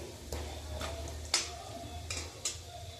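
Masala with turmeric is sautéed in a pan for a village-style stuffed brinjal curry, with a few sharp spatula taps and scrapes over a quiet low background hiss.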